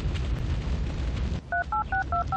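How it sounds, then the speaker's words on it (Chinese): Telephone keypad tones sound in a tunnel emergency VR game: five evenly spaced two-tone dialing beeps follow a dull, rumbling background wash. "请拿起电话，"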